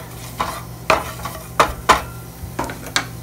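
Cumin and chili powder fried briefly in a pan for kadhi pakoda, stirred with a utensil: roughly seven irregular close scraping and clinking strokes over a faint sizzle, with no voices.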